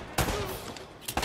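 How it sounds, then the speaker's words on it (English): Shotgun blasts in the video game Uncharted: Drake's Fortune, two sharp loud shots about a second apart with a reverberant tail between them. "That's a shotgun"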